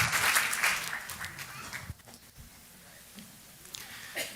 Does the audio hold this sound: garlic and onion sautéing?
no